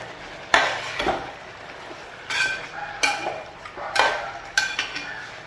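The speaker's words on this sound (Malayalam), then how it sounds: "നമുക്ക് നന്നായിട്ടൊന്ന് ഇളക്കിയിടാം." Kerala chicken curry with masala being stirred in a pan, a few sharp clanks and scrapes of a spoon against metal at irregular intervals, close and fairly loud with quiet gaps between strokes.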